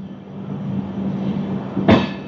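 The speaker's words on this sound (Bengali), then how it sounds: "আমাদের ট্রেন 2 মিনিট দাঁড়িয়ে দামনজদি ছেড়ে দিল" The Hirakhand Express pulls out of Damanjodi station, a steady low rumble of the moving train with a sharp metallic clank near the end, no voices.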